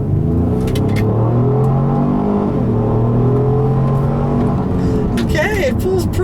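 A 2016 Ford Explorer Platinum with a 3.5-liter EcoBoost V6 pulls hard down a back road, its engine droning and climbing steadily in pitch from inside the cabin, with a brief voice heard near the end.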